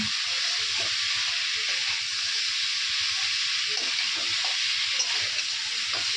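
Vegetables fry in a pan over a medium gas flame in a home kitchen, making a steady, fairly loud hissing sizzle with faint scattered clinks and a little background murmur.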